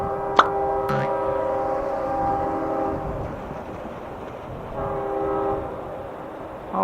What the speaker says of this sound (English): But it looks like a freight train though.